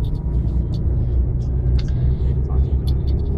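A car driving along the Ayre Road in Kirkwall, Scotland, its engine a steady close rumble heard from inside, with someone talking over it throughout.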